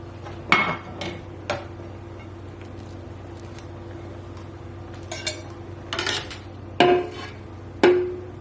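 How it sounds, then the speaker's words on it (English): Cooked green spaghetti drained in a kitchen, with scattered metallic clanks and knocks of pots and pans over a steady low hum, several sharp hits near the end. "Take them all out, drain well."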